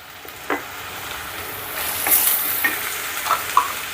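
Chopped tomato and thinly sliced green chillies frying in a pan, a soft close sizzle that swells midway, with occasional spatula scrapes and taps and no talking.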